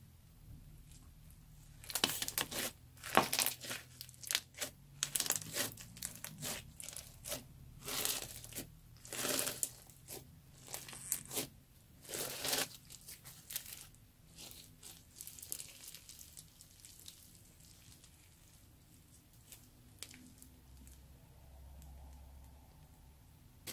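Crunchy homemade slime made with plastic bags is squeezed and kneaded, giving dense bursts of crackling, crinkling plastic that come in irregular clusters, close and alone, then thin out toward the end.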